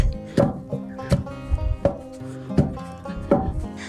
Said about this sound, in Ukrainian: Товкти його тако, щоб він подобся, щоб він був м'якенький.